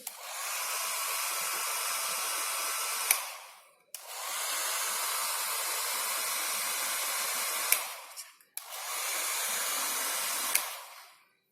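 A hair dryer dries spots on a TLC plate, blowing in three loud, steady bursts of several seconds each, separated by brief silences and each ending with a small click.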